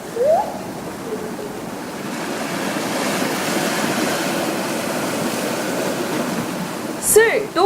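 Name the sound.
waves crashing against porous rocks of Seuldo island, Ulsan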